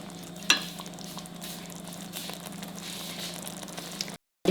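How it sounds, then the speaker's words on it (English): Tamarind juice goes into a sizzling bitter gourd (karela) masala in a pan, giving a sharp splash and then a steady frying hiss with stirring scrapes, ending in a brief cut. "Now I will add in the tamarind juice."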